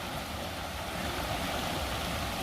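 Stream flowing at a water source along the Pacific Crest Trail, a continuous close rush of water with steady broadband hiss and no pauses or voices.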